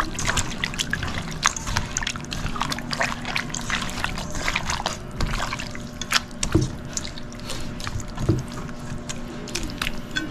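Hands squeeze and knead chicken in a wet barbecue marinade, giving close, irregular squelches and liquid drips with a few sharper slaps.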